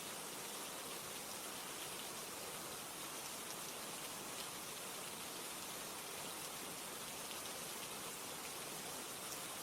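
Steady, dense rain hiss, continuous and even throughout with no pauses, heard alone without any voices.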